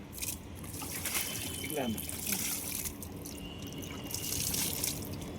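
Water poured from a heavy bucket onto a newly planted jasmine plant on a terrace garden, a soft steady trickle and splash under a constant background hiss, with voices speaking at moments.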